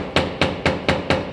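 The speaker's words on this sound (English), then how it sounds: "hammering in serial numbers" Serial numbers are hammered by hand in a workshop: five sharp, evenly spaced metallic strikes, close and loud, each ringing briefly before the next, with no talk.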